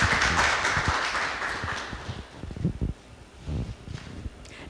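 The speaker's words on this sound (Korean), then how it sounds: "여러분 박수로 환영해 주세요." An audience claps to welcome the author at a Wednesday book concert event, a broad wash of applause that starts full and thins into scattered claps and rustle over a few seconds.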